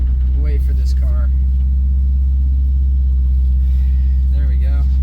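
A Nissan 240SX idles and rumbles loudly at close range, a steady low engine drone that holds throughout, while a person talks over it.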